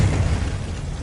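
A Confringo blast spell going off in Hogwarts Legacy: a short, loud, low booming burst that rumbles steadily through the brief moment, with no speech over it.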